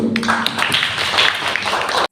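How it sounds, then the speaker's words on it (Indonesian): A classroom of students applauds a student group, a short, dense burst of clapping that stays steady for about two seconds before cutting off abruptly. "Kita berikan tepuk tangan dulu."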